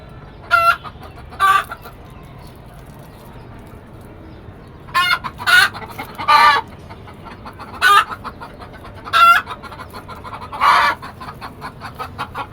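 Chickens on a rooftop poultry farm cluck in repeated short bursts, several loud close calls spaced a second or two apart over a low steady background hum, with no talking.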